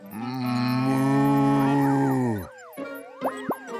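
Cartoon cow in a Garfield episode letting out a long, loud, sustained moo, followed by short boing and plop-like comic sound effects.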